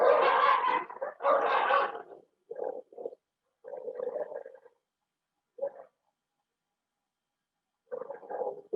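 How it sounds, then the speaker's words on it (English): Dogs bark and whine behind a door in short muffled bursts, a few louder barks first and then scattered quieter yelps with pauses between, fairly close. "They're at the door, barking under the door for someone."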